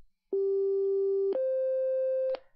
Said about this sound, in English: Now it plays a perfect sine wave.